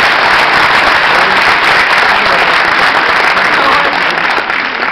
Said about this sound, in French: à Seb, à Jean-Michel, à Jérôme Guizou, vous pouvez les applaudir, tous les bénévoles de l'association